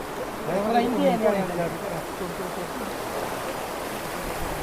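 Floodwater of the Sutlej river near the village of Hariwal in the Anandpur Sahib area pours past in a steady, broad rushing roar, with a voice briefly talking over it early on.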